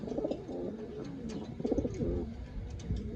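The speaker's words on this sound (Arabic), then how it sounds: "برضو انا بمسك الفرد كده وادخله الباب علشان تشوفوا هو بيشخر وبيجعر اهو" A pigeon held at the loft door coos and grunts close to the listener in repeated short, throaty bursts, with a brief pause between each round of calls.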